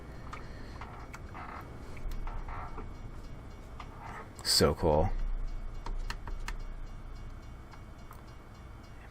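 A short train passing in the American Truck Simulator video game, a low rumble from inside a truck cab with a brief louder burst midway; someone talks briefly over it.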